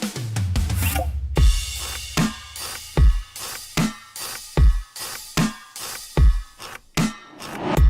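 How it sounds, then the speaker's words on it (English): A sampled Studio Drummer kit plays a rapid tom fill at the start, then settles into a steady pattern of punchy low drum hits with crisp bright transients, loud and dry, with no voices. "So for these tom fills, we're using Studio Drummer."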